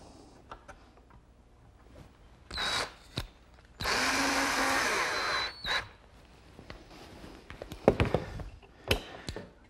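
A power drill drives a screw into a wooden jig for an outdoor garden table in a workshop, with a couple of short whirring bursts and one longer steady run, set among clamping taps and handling knocks.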